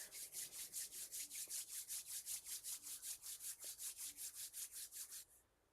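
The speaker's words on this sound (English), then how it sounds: "We'll rub the palms of the hands together." Palms of the hands rubbed briskly together during a gentle yoga session make a fast, even run of about two dozen close, dry swishing strokes that stop abruptly.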